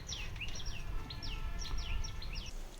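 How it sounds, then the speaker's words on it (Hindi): Birds chirp among trees around a house in Dehradun, a quick series of thin, high tweets repeated over steady outdoor background noise, moderately close with no talk. "यहाँ पे चारों तरफ पेड़ पौधे ना, इस वजह से चिड़ियों की चहचहाट ज़्यादा सुनाई दे रही है।"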